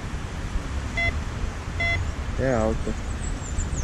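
A metal detector sweeping the sand at Balneário Camboriú beach gives short electronic beeps on a coin, two brief tones followed by a wavering tone, over steady wind and surf noise while a person speaks briefly.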